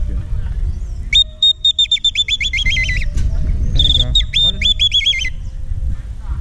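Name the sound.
hunting bird call device imitating birds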